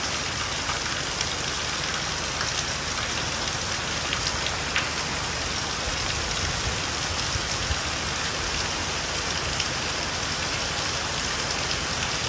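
Heavy rain pours down in a village, a dense, unbroken hiss of drops striking surfaces that stays loud and even from start to finish.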